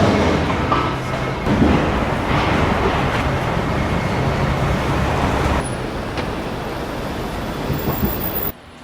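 A New York subway train riding toward downtown, a steady, loud rumble of wheels and car noise filling the whole stretch with no talk, then cutting off abruptly near the end.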